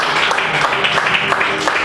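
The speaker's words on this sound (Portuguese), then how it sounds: "Dê uma força e salva de palmas para Jesus" A church congregation applauds during a service, a loud continuous wash of clapping with voices mingled in.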